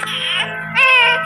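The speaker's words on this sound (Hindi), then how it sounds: "उस बड़े से कूड़ेदान से एक बच्चे के रोने की आवाज आ रही थी।" A newborn baby cries from inside a large garbage bin in a dramatized story scene, two wailing bursts, close and loud, with no speech over it.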